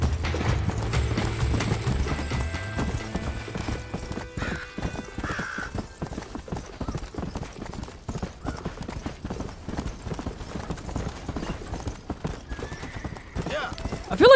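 Horse hooves from the video game Red Dead Redemption, a rapid steady clip-clop of galloping close by with a whinny early on, continuing alone under faint game sounds.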